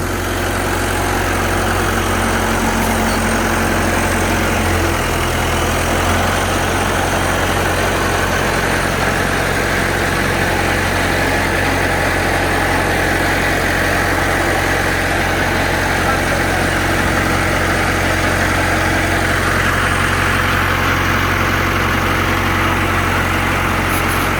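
A small straw baler's engine idles with a loud, steady, even rumble and vibration that continues unbroken for the whole stretch, with no talk.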